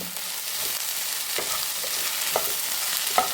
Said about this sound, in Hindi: हाई फ्लेम पर मिक्स करेंगे इसको